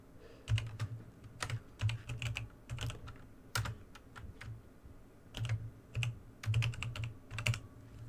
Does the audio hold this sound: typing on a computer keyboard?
yes